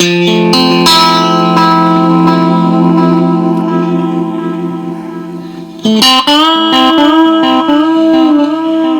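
Sustained distorted instrument notes pass through a digital delay that emulates analog tape echo. The repeats are warm and slightly dirty and trail behind each note. Midway a new loud chord cuts in, and its echoes ring on alone.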